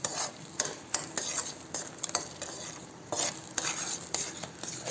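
Peanuts stirred into hot jaggery for barfi make a busy, continuous scraping and clattering in the pan, with irregular sharp strokes close by and no voices.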